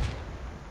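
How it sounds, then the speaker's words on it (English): Grenade machine gun fire in an Arma-style military shooter set on Altis, heard as a short, loud, booming low thud that rings out briefly and leaves a lingering rumble. "there's a GMG shooting from somewhere"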